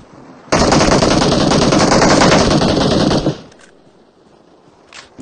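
Sustained automatic gunfire in a Payload-mode shooting video game, a loud continuous burst of about three seconds that cuts off abruptly, leaving quiet background with a couple of faint clicks.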